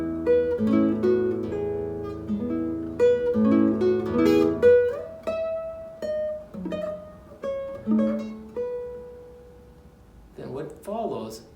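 Classical guitar plays the opening bars of the B section of Tarrega's Adelita, rich chords and bass at first, then a thinner sustained melodic line; clear and close, ending in brief fumbling sounds, no talk.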